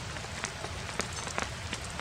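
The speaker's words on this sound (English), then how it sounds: "Rain seems to be pretty steady." Steady rain patters on a tarp over a winter campsite, a dense fine hiss broken by a few sharper drips landing close by.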